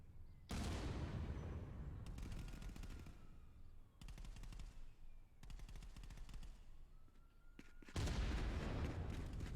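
Bursts of rapid gunfire, machine-gun rattles, and booms in a continuous loud barrage from the VR combat game Contractors VR, with no talk.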